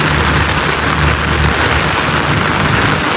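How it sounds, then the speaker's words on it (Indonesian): Heavy rain with strong wind in the Maldives makes a dense, steady roar of downpour drumming on surfaces close by, continuous and loud throughout with no voices. "Payungku sudah mulai ini mau terbang karena hujannya ini semakin besar teman-teman, dan anginnya juga sudah terasa besar"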